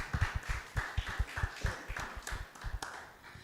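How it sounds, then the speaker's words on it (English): An audience at a stage speaking event gives scattered, moderately faint applause with irregular claps for a few seconds. "let us give a round of applause to Brian for Impressive speech today."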